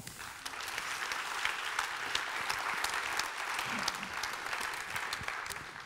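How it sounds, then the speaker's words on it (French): A conference audience at a trading day event claps together, the sustained applause holding evenly throughout at a moderate, somewhat distant level. "ils ont méritez un grand applaudissement"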